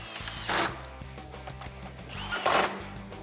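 A power tool drives bolts across the top of a 2019-2021 RAM 1500 truck grille in two short, loud whirring bursts separated by a quieter pause, close up with no talking.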